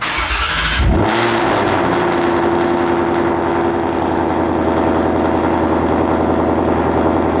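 A Ford Mustang Mach 1 with long tube headers cold starts. A loud crank gives way to a booming, throaty idle that stays steady and very close.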